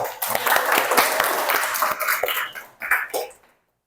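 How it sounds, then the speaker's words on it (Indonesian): A room full of people claps together steadily for a few seconds, then the applause thins into a last few claps and stops. "Beri tepuk tangan untuk kelompok 3."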